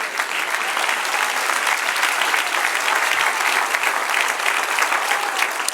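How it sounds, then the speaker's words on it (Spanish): A church congregation claps together in a dense, steady roar of applause for the Lord, loud and sustained from start to finish with little else audible. "Dale un aplauso al Señor."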